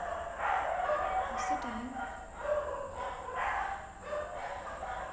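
A dog barks at night around half past two, a few rough barks rising and falling across the stretch, mid-distance, heard under a person's talking.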